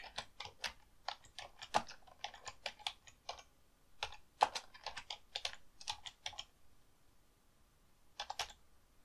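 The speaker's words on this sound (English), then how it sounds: "up here in the variable name, I'll type in something like" Someone types text on a computer keyboard in quiet bursts of quick, close key clicks with short pauses between them, faint overall and with no talking.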